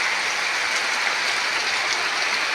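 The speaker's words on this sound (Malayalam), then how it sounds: "ഇവിടെ എത്തിയപ്പോഴത്തേക്ക് ഇതാ ഭയങ്കര മഴയും കാര്യങ്ങളുമാ." Heavy rain pours down as a dense, even hiss that stays loud and unbroken throughout, with no one talking.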